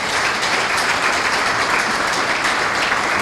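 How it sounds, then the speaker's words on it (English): Loud, dense audience applause at a chamber of commerce small business award event, a continuous wash of clapping from a large crowd held evenly for a few seconds with no talk over it. "if you want to applaud for any of these organizations,"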